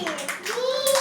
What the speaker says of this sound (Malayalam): വേറെ ക്ലാപ്പ് കൊടുക്കുക നിമിഷയ്ക്ക് എല്ലാവരും.